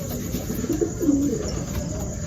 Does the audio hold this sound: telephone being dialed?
no